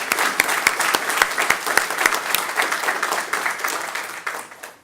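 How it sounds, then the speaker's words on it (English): At an adoption day ceremony in Pasco in 2018, an audience breaks into loud, sustained applause that starts with a few distinct claps, swells into a dense wash and then tapers off near the end. "Let's give them a round of applause."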